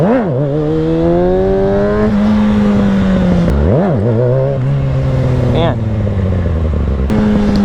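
A stunt motorcycle's engine revs loudly and close, repeatedly rising and falling in pitch as the rider works the throttle, while someone talks over it.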